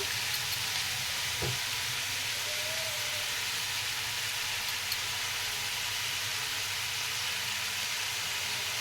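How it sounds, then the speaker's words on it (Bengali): Chili chicken sizzles steadily in a hot pan as sauce is added, a constant loud hiss of frying with a brief clatter early on and no talking. "এবার আমি এখানে সস অ্যাড করব। সস দিয়ে দেব।"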